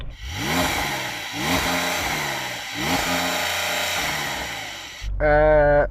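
A Lamborghini's 5.2-litre naturally aspirated V10 revs hard three times in rising, howling sweeps that drop back between blips, followed by a short loud mechanical whine at the end.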